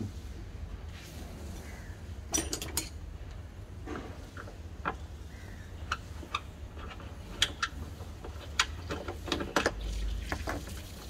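A screw is worked out of the rear AC blower housing of a Toyota Alphard/Vellfire: scattered small ticks and plastic clicks, close and fairly quiet, over a low steady hum, with no talk.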